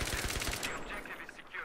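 Gunfire in Battlefield 3 during a Conquest match on Grand Bazaar, with a rapid burst of close, loud shots in the first half second, then a busy, noisy battle wash continuing underneath.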